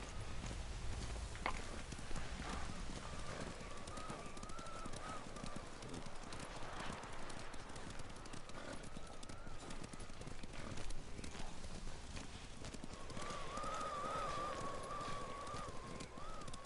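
Rapid hoofbeats of a galloping horse in Ghost of Tsushima drum steadily throughout, with faint ambient tones and soft voices in the background.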